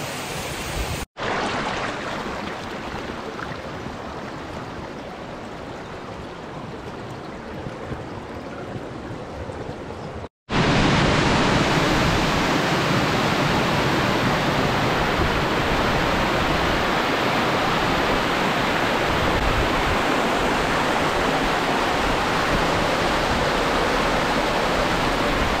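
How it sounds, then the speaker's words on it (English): Raymond Creek Falls roars as a steady, broad rush of water heard from the top of the falls, growing louder and closer after a short break and continuing unbroken. "I'm up the top of Raymond Creek Falls."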